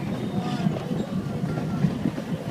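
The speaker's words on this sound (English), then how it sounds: "Are we on the train?" A small park train on the Vasona ride rolls along its rails with a steady rumble and rhythmic wheel clicks, loud and close throughout.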